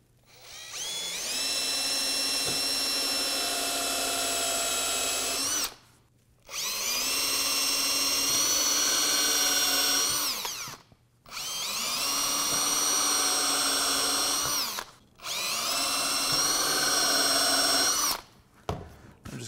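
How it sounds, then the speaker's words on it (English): A power drill bores holes through a wooden board in four long bursts, each one loud and close and separated by short pauses, with no talking. "And then I'm just going to drill these out."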